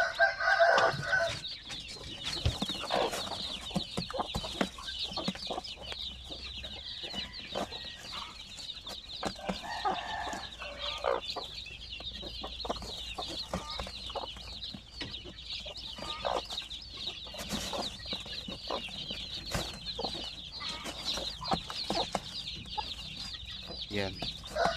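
Native Basilan chickens and their chicks cluck and cheep steadily close by in a busy coop. The calls run almost nonstop over a low background, with occasional louder bursts.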